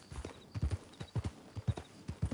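A horse's hooves clip-clop at a steady trotting pace, fairly close and distinct, with a rhythmic series of paired strikes as the animal is urged on.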